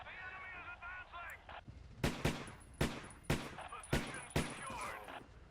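Sniper and rifle fire in the World War II shooter game Battlefield 1942: after someone speaks, about seven sharp, loud gunshots crack out at irregular intervals, each with a short echoing tail.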